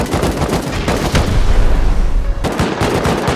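A rocket is fired at a turret during a Rust firefight, a loud close blast and roar layered with dense rapid gunfire bursts that ease briefly before the shooting resumes.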